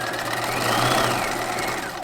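A sewing machine stitches a bodice in a steady, rapid mechanical whir and chatter, close and continuous for about two seconds before slowing at the end.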